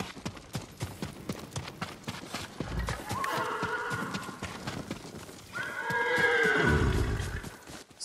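A horse in the video game Ghost of Tsushima whinnies twice, loud and close, the second call longer and louder, with hoof clip-clops and game sounds around it.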